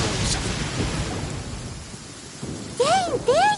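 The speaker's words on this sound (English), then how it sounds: "Rain" Rain falls steadily in the video game Genshin Impact with a low rumble of thunder, then two short rising-and-falling tonal calls ring out near the end.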